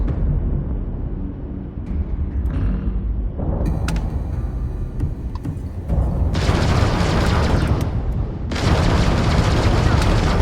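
Starfield spaceship combat brings heavy booming weapon fire and explosions. A dense low rumble swells across the whole span with bursts of crackling blasts, and a voice speaks over it.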